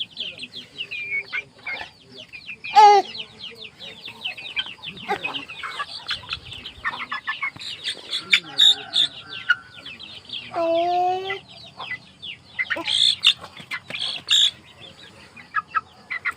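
Chickens clucking and squawking at close range on a mountain homestead, with intermittent rooster-like calls and a few rising cries, broken clucks spread throughout and a person speaking briefly now and then.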